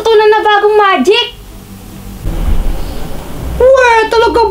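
Magic rain and thunder in an Among Us cartoon: a hissing wash of rain with a low rumble swells between high, sing-song cartoon voices, loud and close.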